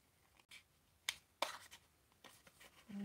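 Scissors trimming paper card stock, a few soft, separate snips and rustles, close and quiet with no talking.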